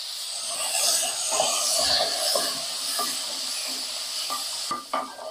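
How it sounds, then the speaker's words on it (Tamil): Potatoes sautéing in oil in a pan for a butter masala, a steady close sizzle and hiss with occasional scraping and stirring taps, and no talking. "இப்போ இதை உருளைக்கிழங்கு போட்டு லைட்டாக இதில் ஒரு பரட்டு பரட்டி எடுத்துக்கலாங்க"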